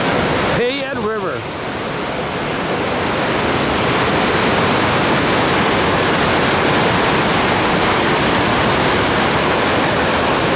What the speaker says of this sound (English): Wow, that's whitewater, big time.